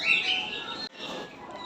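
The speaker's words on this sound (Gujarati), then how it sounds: "જો મસ્ત મસ્ત ના બે પોપટ દેખાય છે" At an animal rescue centre around dusk, a pair of parrots give a burst of shrill, warbling calls close by, with a brief pause in the middle before the calling resumes.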